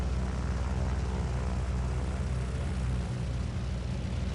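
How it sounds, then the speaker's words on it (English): An airplane flies overhead in the Fortnite video game, giving a steady low droning rumble that stays constant throughout at a moderate level. "This is a loud airplane."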